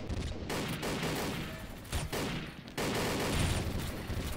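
Gunfire in the shooter XSHOT: rapid, continuous bursts of shots, loud and close, with brief gaps where the firing breaks off and resumes.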